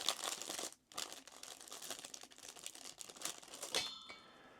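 Plastic packaging crinkles and rustles close up as a Dwarf 3 smart telescope is unwrapped, with crisp, irregular crackling bursts and short tearing sounds, briefly pausing before more sharp rustles.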